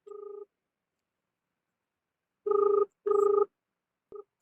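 A telephone ringing for a prank call: one short ring, a pause, then two longer rings close together and a brief clipped start of another, clear and alone with no talk.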